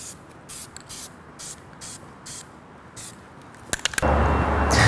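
Dupli-Color clear coat aerosol sprayed onto a car wheel during an El Camino restoration, heard as a run of short hissing bursts with pauses, then a closer, louder continuous spray near the end.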